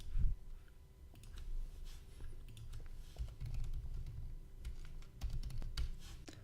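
Steady typing on a computer keyboard while entering a search term, a close, continuous patter of light clicks with scattered sharper taps over a low background hum.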